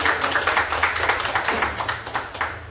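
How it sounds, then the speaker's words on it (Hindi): Attendees at a weekly business meeting in Kalwa clap for new members, a steady patter of hand claps from a small group indoors over a low hum, moderately loud throughout. "तो एक जोरदार ताली होनी चाहिए।"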